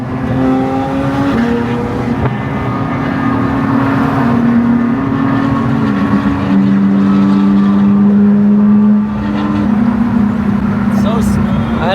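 A Porsche 992 GT3 engine pulls hard, its loud, steady drone climbing in pitch and then dropping at each quick gear change, heard from inside the car with people talking over it.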